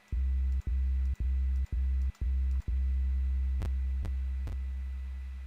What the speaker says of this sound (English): So it's a long resonating 808 that we used